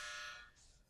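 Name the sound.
buzzer sounding in the background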